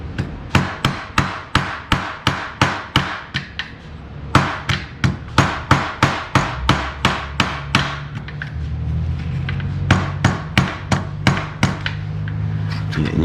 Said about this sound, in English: we're gonna keep on tapping this gasket out here